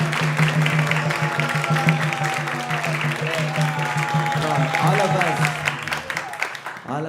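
Applause from the audience at a Krishna Katha gathering fills the room as a steady clapping wash, with a droning tone and murmured voices running underneath throughout.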